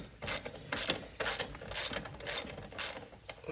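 A ratchet with a 1/2 inch socket clicks in quick bursts while tightening wheel lug nuts on a 2014 Polaris Sportsman 570, close and fairly quiet, with short pauses between strokes.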